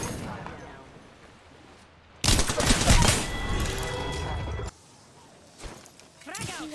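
Gunfire in Apex Legends: a dense, loud burst of rapid shots lasting a couple of seconds, framed by quieter in-game action and a few lighter pops afterward.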